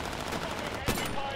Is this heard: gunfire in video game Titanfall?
yes